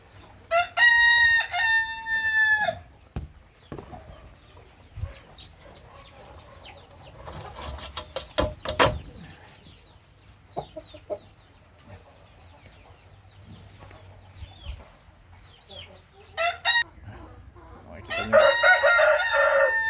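Large roosters crowing loudly nearby, with two long cock-a-doodle-doo calls at the start and end, scattered clucks and handling clatter in between, and occasional talking.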